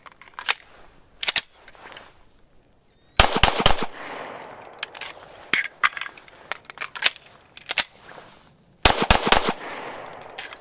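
Ruger-57 pistol fired rapidly at a 10-yard range: sharp, loud shots in tight bursts of two to five with short pauses between strings, close and without talk.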